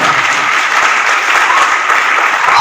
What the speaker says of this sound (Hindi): mister Salman sir Khan sir के लिए मैं एक बार जोरदार ताली चाहूंगा